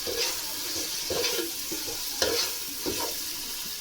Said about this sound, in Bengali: এখন আমি আদা রসুন সামান্য একটু আদা রসুন বাটা দিয়ে দেব। এটা সুন্দর মতো ভেজে নেব